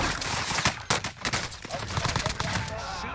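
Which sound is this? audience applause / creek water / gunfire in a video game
gunfire in a video game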